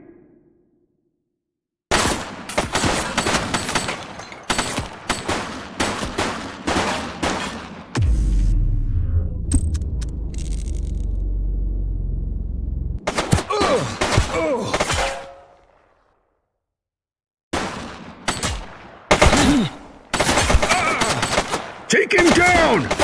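Bursts of gunfire from a police shootout in the video game The Precinct, loud rapid volleys broken by a stretch of low rumbling and a short silence, then more heavy firing near the end.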